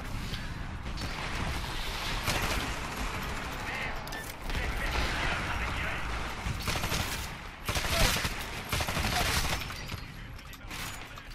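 Sustained gunfire in the PC shooter Titanfall, with rapid automatic bursts and loud impacts stacking densely over about eleven seconds, broken by brief pauses, while a player speaks under the shooting.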